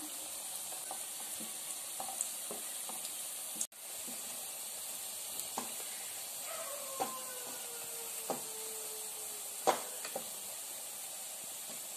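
Chickpea cutlets coated in breadcrumbs fry in hot oil in a pan, with a steady close sizzle and hiss, occasional soft pops, and a scrape or two as they are turned.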